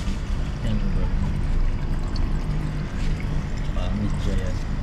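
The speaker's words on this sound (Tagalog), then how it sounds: "Yung pump na sa overflow natin na yan" Water from an aquarium pump overflow pours and trickles steadily, a continuous splashing wash with people talking over it at close range.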